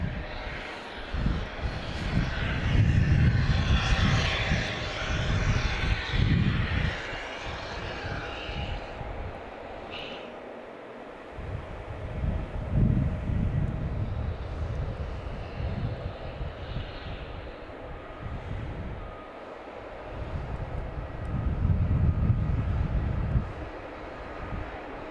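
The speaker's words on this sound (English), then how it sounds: "Next up is a JetBlue heading to New York" A JetBlue Embraer 190 jet roars at Logan Airport at night, its engine noise rising and fading in broad swells, moderately distant, with no voices over it.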